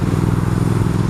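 A 2019 Triumph Speed Twin motorcycle engine runs while being ridden, giving a steady, loud, close-up drone with a low throb and no break through the short stretch.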